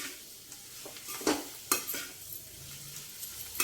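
Curry with chili and salt frying in a pan, with a quiet, steady sizzle broken by several scraping stirs of the spoon, heard up close and with no voices.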